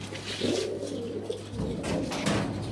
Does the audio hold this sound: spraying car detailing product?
no